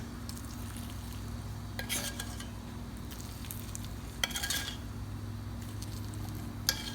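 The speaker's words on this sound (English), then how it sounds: "Add this oil to the apples." Heated oil with salt and red chili powder mixed into apples for pickle: quiet steady stirring and faint sizzle, broken by a few sharp scrapes and clinks of a spoon against the bowl.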